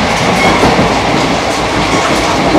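Worn, rough-riding train wheels clatter hard and continuously beneath a moving passenger coach, a loud, dense rattling and banging like stones tumbling, with no break in the racket.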